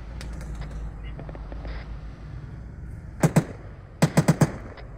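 Arma 3 gunfire on a Takistan patrol sounds as sharp, distant reports: a quick pair of shots, then a rapid burst of four, over a quiet ambient background.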